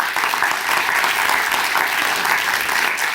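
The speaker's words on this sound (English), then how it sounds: "Would you please help me give them a big round of applause?" Steady, dense applause from a large audience at a sustainability-themed talk event, loud and sustained throughout with no pauses.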